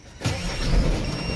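A Scania Super Euro5 420P truck engine cranks and catches, settling into a steady, loud rumble right after starting.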